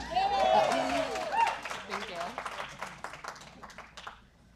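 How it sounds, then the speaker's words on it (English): Audience applause for the finalist teams at the Well City Challenge community showcase, scattered claps swelling into a steady round and then fading away, with a voice speaking over the start. "a round of applause for those teams who made it here as finalists"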